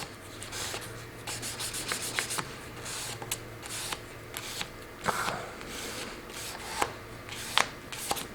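Solid plastic about an eighth of an inch thick being hand-sanded with 800 and then 1000 grit sandpaper, giving a steady, close, soft rubbing hiss in repeated strokes with a few sharper scuffs.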